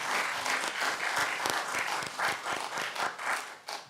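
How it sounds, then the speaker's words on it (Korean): A church congregation claps for the choir during a Sunday worship service, a dense, steady round of applause from many hands lasting several seconds and fading near the end. "특별히 우리 격려하는 차원에서 성가대 박수 한번 쳐줍시다."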